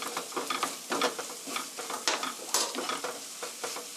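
Tomato sauce sizzling in a pan with butter and a little brown sugar, stirred steadily so that repeated close scraping strokes rise and fall over a soft, continuous frying hiss.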